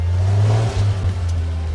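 A custom-built car's engine revs steadily and close by as it drives, a strong low drone that swells and eases slightly, with no talking.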